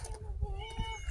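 A cat meows in a rural Thai setting, a drawn-out wavering call up close with background voices and outdoor noise underneath.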